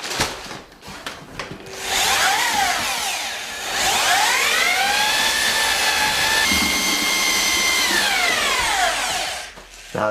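A power drill with a mixing paddle whirs steadily for several seconds, its pitch rising and falling as it churns through thick plaster, loud and close.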